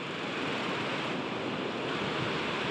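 Water rushing steadily along a channel outdoors, a dense, continuous broadband wash with no pauses and no voices.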